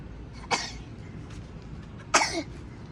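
A child coughs twice, a sharp near cough followed by a louder, rougher one with a brief throat-clearing tail, over quiet room background.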